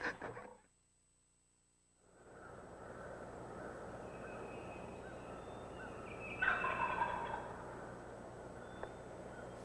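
A wild turkey gobbles from a thicket during a spring hunt, one distant rattling call rising briefly over steady outdoor background noise after a short quiet stretch.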